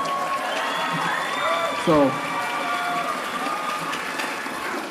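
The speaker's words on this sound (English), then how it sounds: "one more big round of applause for the graduates." Applause for graduates at a fall commencement ceremony, a steady wash of crowd clapping throughout with a brief louder burst near the middle and a person speaking over it.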